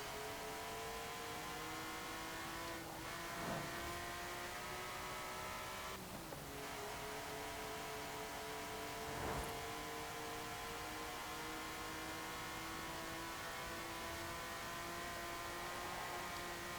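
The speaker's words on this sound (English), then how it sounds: "this is a great sounding naturally aspirated engine" A 2002 BMW Z3 M Coupé's naturally aspirated inline-6 engine in Forza Horizon 4 hums at a steady, sustained drone, with a few brief gear-shift dips, alone and fairly even in loudness.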